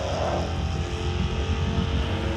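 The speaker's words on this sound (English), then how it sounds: "the driver had to launch the car, drive up and around a 180-degree turn" A car launches and drives an autocross course at a Mopar event, its engine a steady loud drone near the listener, holding a constant roar without gear changes or talk.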